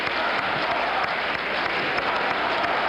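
Crowd at the 1976 Democratic National Convention applauding, a dense sustained wash of clapping and cheering filling the hall without pause.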